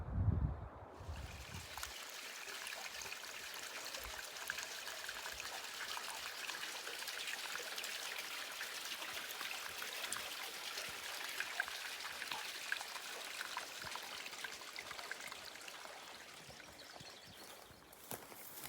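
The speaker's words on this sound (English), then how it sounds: "Pretty cool little slot canyon. Water flowing through it." Water flowing through a small slot canyon along the Middle Fork of the Gila River in New Mexico, a steady close trickling rush that holds even from start to end, alone, with a faint bump at the very beginning.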